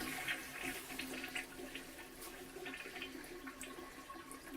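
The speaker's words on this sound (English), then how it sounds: "Flush the toilet." A toilet flushes in a building, a steady rushing swirl of water running the whole time at moderate level, with faint tap water sounds mixed in and no voices.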